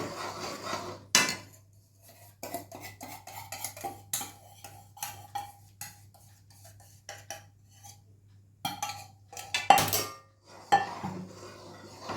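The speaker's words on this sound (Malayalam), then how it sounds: "നന്നായി ഇളക്കിക്കൊണ്ടേ ഇരിക്കുക" A spoon keeps stirring Mysore pak batter as it cooks in a pan, making scraping strokes and intermittent sharp clinks and knocks against the metal. The sounds come close and are fairly loud, with short pauses between bursts.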